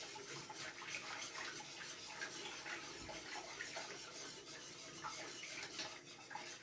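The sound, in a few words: whisking seafood lasagna sauce in a pot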